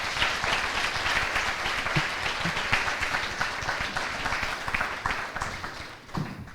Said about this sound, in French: Je voudrais qu'on applaudisse également notre jury